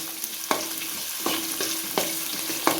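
Ginger and green chillies sautéing in hot oil for a vegetarian pickle give a steady, close sizzle, broken by a utensil scraping the pan roughly every three-quarters of a second.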